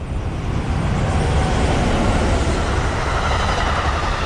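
A New Jersey Transit train rolls past close by with a loud, steady rumble and roar that swells slightly mid-pass, with no talking over it.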